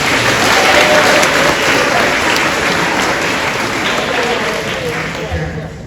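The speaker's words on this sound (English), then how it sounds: "let's just give a round of applause for the teachers first" Loud, sustained applause from a crowd honoring the teachers at an 8th grade graduation ceremony, dense clapping holding steady for about six seconds before easing slightly toward the end.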